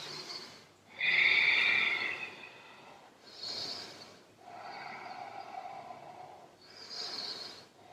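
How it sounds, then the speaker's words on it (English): Slow, deep yoga breaths during a hatha flow: several long, airy inhales and exhales, close and clear, separated by brief pauses with no speech. "Let's take 4 deep breaths."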